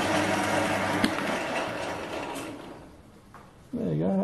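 Grinder sharpening a carbide insert at medium feed, giving a steady close mechanical whir and grinding rasp with a short click, fading briefly before a louder whine rises again at the end.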